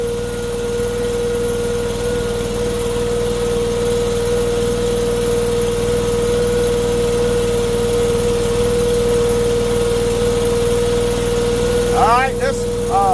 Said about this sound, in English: this motor's only about barely a third throttle. So if I'm not working really fast or got a lot of people in front of me, I just run it a little above idle